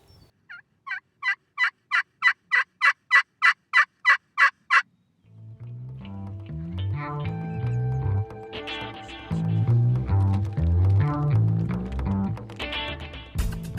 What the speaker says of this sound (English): They'll gobble once, and then just like a ghost